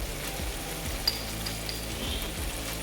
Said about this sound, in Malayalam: നമുക്കിതൊന്ന് നല്ലതായിട്ടൊന്ന് വഴറ്റിയെടുക്കാം.